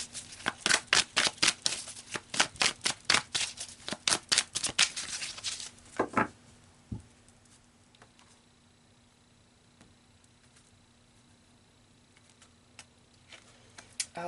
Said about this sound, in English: I'm gonna pull a couple final cards to wrap this up for you